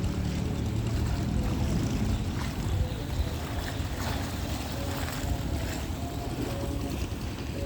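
A local fishing boat heads out to sea from a small harbour at Cha-am beach, Phetchaburi, in the evening; a steady engine drone mixes with wind buffeting the microphone and lapping water for the whole stretch.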